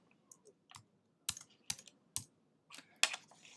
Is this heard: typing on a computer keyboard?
yes